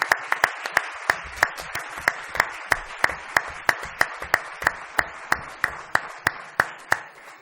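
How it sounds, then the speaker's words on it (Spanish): Applause for the author at a novel's book presentation comes as slow, evenly spaced claps, sharp and close, keeping a steady rhythm throughout. "hay que aplaudir al autor"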